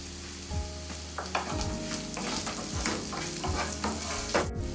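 Pumpkin pieces fry with salt in a pan, a close sizzle broken by repeated scraping stirs and knocks of a spoon against the pan; no talking.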